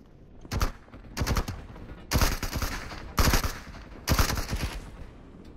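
Gunfire in the tactical shooter Marauders, five bursts of rapid automatic shots separated by short pauses, loud and close.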